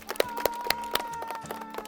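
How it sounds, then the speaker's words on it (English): A classroom of students clapping for two game winners, sparse and uneven claps with a few sharper hits, fairly quiet and brief, with faint voices beneath. "Let's clap for our 2 winners."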